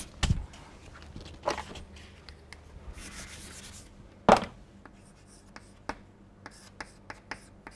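Writing on a board during an engineering lecture produces scattered taps and short scratchy strokes at irregular intervals, fairly close, with a brief rubbing sweep in the middle and no talk.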